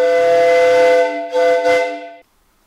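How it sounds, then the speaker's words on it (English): A live-steam model of a New York Central Dreyfuss Hudson locomotive sounds its steam whistle: one long, loud, close blast followed by two short toots, then abrupt silence. "feed to the cylinder drain cocks, and the whistle"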